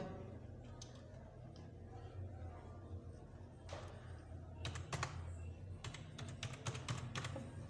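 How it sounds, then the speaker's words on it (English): Someone types an ID number on a computer keyboard while applying for a smart driving license online: scattered clicks, then quick bursts of keystrokes that grow busier toward the end, over a low steady background hum. "I'm going to go ahead and type in my ID number and then my password"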